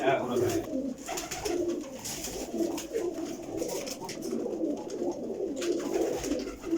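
Lakha and slate pigeons coo in low, repeated throaty calls throughout, with a few faint voices and some background noise mixed in.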